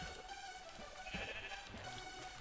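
A pink sheep in Minecraft bleats a few times over steady background game sound, moderately loud and with no talk.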